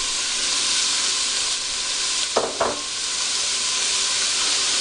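Small-cut bacon pieces frying in a Dutch oven, a steady close sizzle and hiss throughout with a couple of brief clinks of stirring midway.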